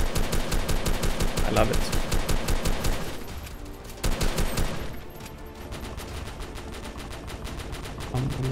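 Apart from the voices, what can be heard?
AK47 gunfire in Armored Assault video game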